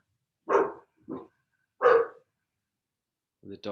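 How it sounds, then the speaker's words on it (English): A dog barks a few times in separate, spaced bursts in a quiet room, with short pauses of near silence between them. "The dog agrees."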